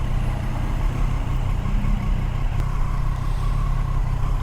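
A Triumph Street Triple 765 RS motorcycle on its stock exhaust idles steadily for a few seconds, a smooth, even engine hum with no revving, heard alone at moderate volume.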